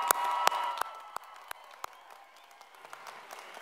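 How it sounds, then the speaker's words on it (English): A graduation audience at Southside High School's 2021 ceremony claps for the graduating class, a dense wash of applause that starts fairly loud with a few sharp individual claps and gradually thins and fades. "And now a round of applause for the Southside High School class of 2021"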